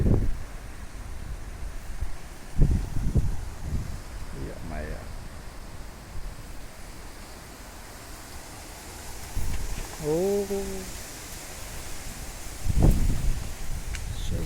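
Strong wind gusts buffet a greenhouse and shade structure outdoors, rising and falling in rushing waves, while a person talks intermittently over the noise.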